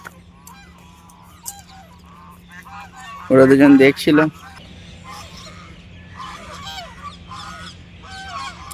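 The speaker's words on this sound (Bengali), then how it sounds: "দেখো গাইস এখানে কত রাজা হাঁস আছে" Geese honk at a village pond, a loud close burst of several honks, with a voice speaking briefly and faint outdoor background around it.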